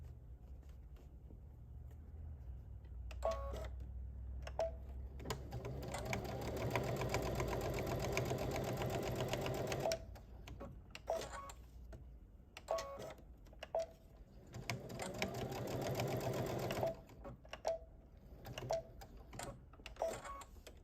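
A sewing machine runs back stitches in two long, steady bursts of close mechanical whirring, separated and followed by short clicks and brief stops.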